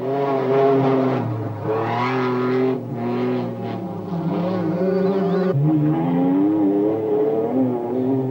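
A Mitsubishi Pajero T1 rally car races at the Baja Monchique 1999 prologue, its engine revving hard and climbing through gears with sharp shifts, loud and close over a narrating voice.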